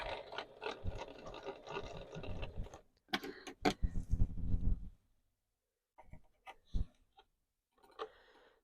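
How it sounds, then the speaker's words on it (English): A sewing machine stitches quilt binding for a single-fold binding, first running a continuous whirring seam, then sharp clicks and short stitching bursts as it back-tacks, with quiet gaps between. "And I'm just going to back tack that."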